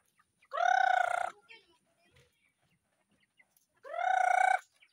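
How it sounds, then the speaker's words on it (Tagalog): Farm fowl call out in two loud, near bursts separated by a quiet gap, each a strained, harmonic crowing or squawking cry lasting under a second, with faint scattered rustles and small noises between. "Ay, mga manok."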